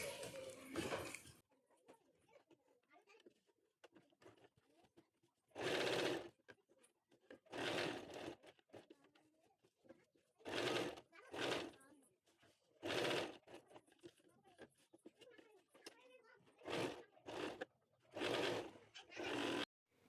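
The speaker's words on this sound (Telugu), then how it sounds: "ఇలా టర్న్ చేసుకున్న తర్వాత టాప్ స్టిచ్ ఒకటి వేసుకోవాలండి" A sewing machine runs a top stitch along the turned edge of a kurti in short repeated bursts, about eight runs separated by pauses, fairly loud and close, with a voice talking between them.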